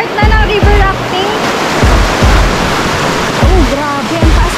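Loud, steady rush of a high river after a dam release, heard while rafting in Bulacan, a continuous roar of churning water with voices shouting over it throughout.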